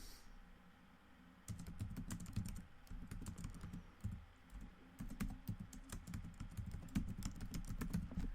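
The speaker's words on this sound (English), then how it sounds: "Apologies if you can hear typing noises." Quiet, rapid clicking of keys on a computer keyboard, continuous uneven typing with short pauses, close by and fairly soft.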